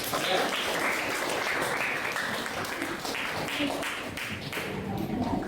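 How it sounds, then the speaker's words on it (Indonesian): Audience applause in a lecture hall during a university lecturer certification session on Malay and Nusantara oral poetry, steady dense clapping filling the whole stretch with faint voices mixed in. "Oke, baik, tepuk tangan"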